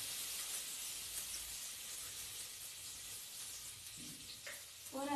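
Butter sizzling in a heated pan on a stove: a steady, even hiss of frying that runs throughout, fairly quiet, with a brief clink near the end.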